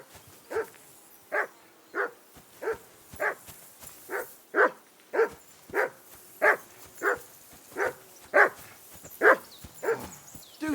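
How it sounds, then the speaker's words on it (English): A dog in Kingdom Come Deliverance II barks over and over at a steady, insistent pace, about fifteen sharp woofs spaced evenly. The barks are close and prominent against a quiet backdrop. "Do something with that mutt, Henry! It's doing my head in!"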